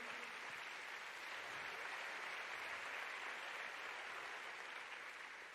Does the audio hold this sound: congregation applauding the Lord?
yes